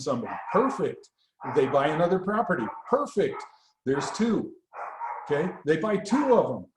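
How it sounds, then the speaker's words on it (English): A dog barks repeatedly in an indoor home setting, loud and close, its yips and bow-wows overlapping with someone talking throughout. "Sorry about the barking dog."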